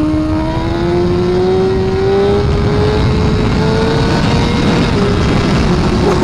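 A Suzuki GSX-R1000R motorcycle engine runs on an open road, held at a loud, steady drone whose pitch climbs gradually as it revs, up close with wind noise throughout.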